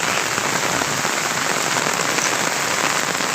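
Heavy rainfall makes a loud, unbroken roar of drops pelting nearby surfaces, even and continuous throughout.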